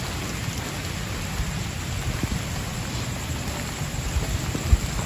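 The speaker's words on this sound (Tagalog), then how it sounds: "It's raining." Steady rain falls in a cemetery at night, a dense, even hiss with a low rumbling wash and a few louder drops or knocks near the end; no one speaks.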